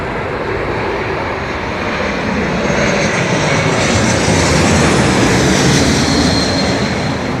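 Jet engines of an ex-Japan Airlines airliner roar at London Heathrow, a loud broad continuous rush that swells slightly as the aircraft passes, with no talk over it.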